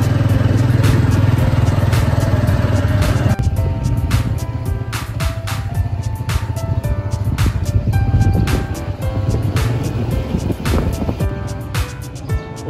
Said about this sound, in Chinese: 我打算让他带我骑摩托车过去